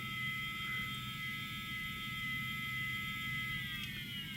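A small Hisense fan motor spins steadily on test, giving a continuous high whine with tonal harmonics over a low rumble, constant in level throughout with no talking.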